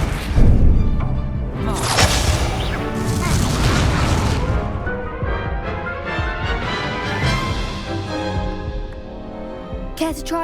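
A fire spell cast in a wizard video game erupts in loud booms, whooshes and crashing bursts that sustain for several seconds, with a brief sharp burst at the end.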